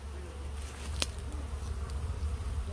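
Bees buzz in a steady, low, continuous drone throughout a hot, dim bee removal, with one brief sharp tick partway through and no talking.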